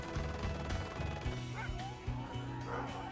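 Many sled dogs barking and yipping together at a bush camp in Alaska, a dense, loud chorus of overlapping barks with some whimpering, continuous throughout.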